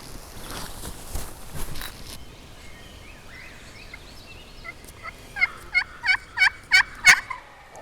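A wild turkey gobbles repeatedly, a run of six or so loud rattling calls in quick succession from a moderate distance, following some quieter rustling and footsteps close by.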